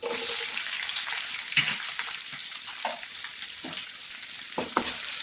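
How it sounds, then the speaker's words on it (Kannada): Onions frying with green chillies in a hot pan for lemon rice, a steady close sizzle with occasional stirring scrapes and bursts, no talking. "ಹಸಿಮೆಣಸಿನ್ಕಾಯಿ ಸ್ವಲ್ಪ ಮಾಗಿದ್ಮೇಲೆ ಈರುಳ್ಳಿ ಸೇರಿಸಿ."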